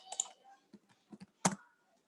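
Someone types on a computer keyboard, producing a handful of soft, irregular keystroke clicks with short pauses between them, close and quiet in an otherwise silent room.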